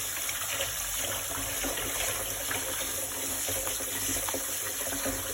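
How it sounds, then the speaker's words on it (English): Water runs steadily from a tap into a sink as dried kapenta (matemba) is drained and rinsed, a continuous close gushing wash with faint splashes and no talk. "So I'm going to drain off the water and rinse everything."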